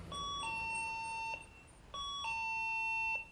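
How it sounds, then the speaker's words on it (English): Two identical two-tone ding-dong chimes ring indoors from an alarm triggered by a driveway motion sensor, each a clear, close, sustained pair of electronic notes separated by a short gap, with no voices. "And the driveway, which has an indoor alarm."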